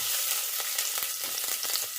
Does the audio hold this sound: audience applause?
no